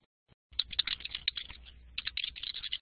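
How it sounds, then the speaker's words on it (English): Quick, close typing on a computer keyboard during an online session, a dense patter of light key clicks after a brief pause, continuing steadily with a short gap midway. "I'm just typing that in the chat window"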